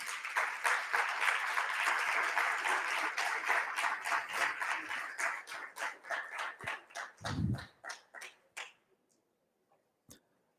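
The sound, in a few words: applause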